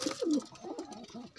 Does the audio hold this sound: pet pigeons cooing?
yes